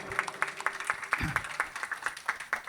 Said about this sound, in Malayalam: നല്ലൊരു കൈയടി കൊടുക്കാതെ.